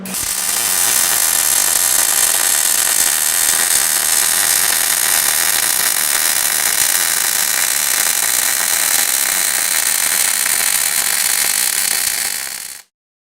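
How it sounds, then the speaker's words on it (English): A MIG welder runs a butt weld with a slight side-to-side weave, giving a steady, loud, close crackling hiss that holds evenly for about twelve seconds before cutting off abruptly. "welding with a slight weave, pausing side to side to avoid undercut"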